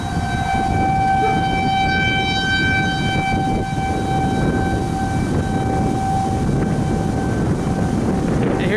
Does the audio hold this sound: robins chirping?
no